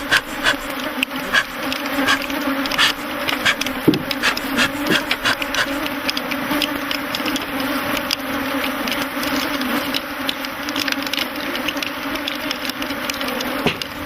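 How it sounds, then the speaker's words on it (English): A dense swarm of African bees buzzes loudly and continuously around beekeepers, an overlapping droning hum with small crackles and rustles throughout. "there must be several million bees swarming around the men"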